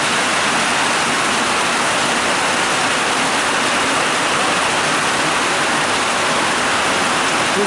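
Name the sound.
rain falling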